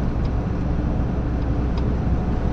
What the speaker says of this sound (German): LKW überholt wieder.